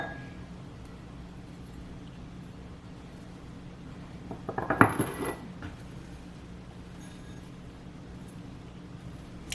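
Handmade ceramic pottery bowls clink together in a short cluster of knocks and clatter midway through, with a quiet room hum before and after.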